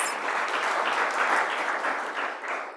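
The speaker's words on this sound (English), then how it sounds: "I think we need to clap hands to Pakja and the partners for that." Participants at a climate justice summer school workshop in Nairobi clap together, a full, continuous round of applause from a sizable room that tapers off at the end.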